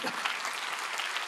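A church congregation breaks into dense, continuous applause during a Sunday worship service, a brief, even burst of many hands clapping at once.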